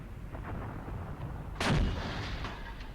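A single heavy 10.5 cm artillery gun blast in a video game booms midway through, with a low rumbling tail over quiet background noise.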